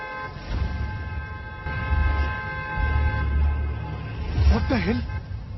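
A sustained horn blares steadily over road rumble, while a person talks loudly close by throughout.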